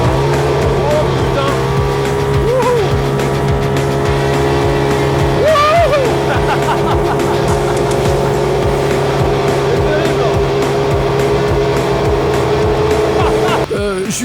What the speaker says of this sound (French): C'est un rodéo mécanique à 140 km/h en enfer. Alors accroche-toi, c'est la séquence buggy et Joseph est au volant.